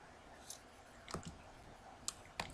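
Mouse clicks while working in software: a few sharp, faint, isolated clicks spaced irregularly over quiet room tone.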